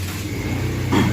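A new motorbike engine chugs in a steady, close idle before revving up louder toward the end.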